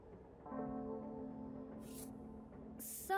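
Train ride ambience in a video game: a steady low rumble with faint tonal hum, broken by a couple of brief hissing bursts near the end, with no talking.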